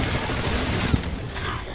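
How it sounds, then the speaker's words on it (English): Rapid assault rifle fire in the Call of Duty: Infinite Warfare multiplayer beta, a dense, continuous burst of loud gunfire and blasts filling the whole moment. "I'm gonna use an assault rifle"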